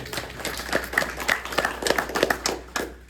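Applause from a modest audience at a veterans salute event, distinct individual hand claps in an uneven rhythm, fairly close and moderately loud, with no talking over it.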